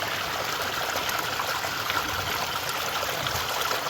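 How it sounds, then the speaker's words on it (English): Water trickling steadily from an unscrewed micro hydro intake pipe, a continuous close splashing stream running evenly without pause. "you can just unscrew that and the water will come out here instead of going into the blue barrel"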